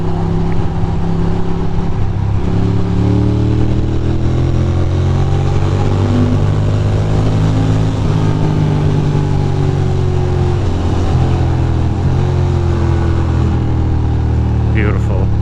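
A Ducati moped rides through downtown Brooklyn streets, its engine droning steadily up close with gentle rises and falls in pitch under continuous wind noise.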